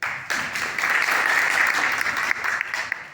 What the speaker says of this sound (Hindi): सर में जोरदार ताली।